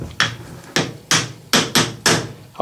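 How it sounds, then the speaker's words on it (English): A brass hammer taps on a metal lathe chuck during assembly, six sharp, evenly spaced close blows with ringing decay, no voices. "and I'm using a brass hammer"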